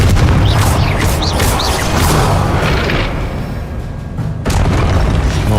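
Confringo fire spell blasts in Hogwarts Legacy combat: loud booming explosions with deep rumble and whooshing bursts, dense and continuous, briefly dipping before another heavy blast near the end.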